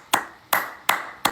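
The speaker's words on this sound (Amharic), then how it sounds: "ጭብጨባ ነው።" Four sharp hand claps at an even pace, close and loud, each with a short ringing decay, and no voices.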